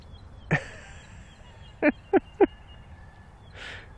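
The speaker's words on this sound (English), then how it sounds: "There's like tons of roosters crowing in the distance." Several roosters crow far off across farmland, faint calls rising over a quiet outdoor background: one call, then a cluster of three short crows, then another softer one.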